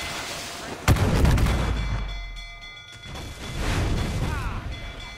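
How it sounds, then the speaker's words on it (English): Ship cannon fire in Assassin's Creed IV: Black Flag booms in a sharp blast with a rumbling tail, followed by more rumbling game effects under a voice. "Cannon ready!"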